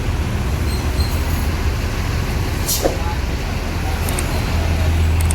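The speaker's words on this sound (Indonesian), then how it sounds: "ramai bus yang tiba sama kendaraan yang mengantar" Buses and other vehicles arriving at a busy Palembang bus stop and ticket counter, a steady roadway rumble with a low engine hum throughout and indistinct voices in the background.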